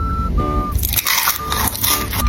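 A crunchy fried sausage dipped in chili sauce is bitten during a mukbang, giving close, crisp crackling bites over a steady tonal background hum.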